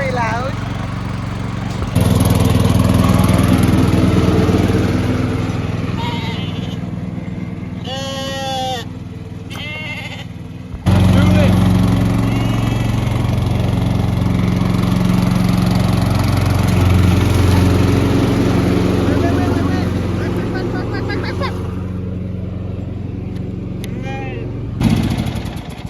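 A new lawn mower on a smallholding runs steadily as it cuts grass in high summer. Its engine drones loudly and close, and a brief pause in the middle is followed by a restart. Sheep bleat in the background, and voices are heard at times.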